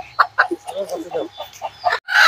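Native hens cluck and squawk in short bursts close by during RDV vaccination, with a person speaking over them.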